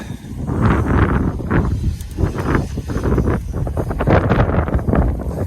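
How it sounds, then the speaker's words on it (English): Steady wind buffeting the microphone, a continuous low rumbling roar with gusty swells and no speech. "it's getting windy now"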